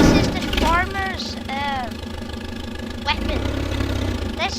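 The battle tractor's engine in the video game Teardown idles and chugs at medium pitch throughout, with a voice talking over it.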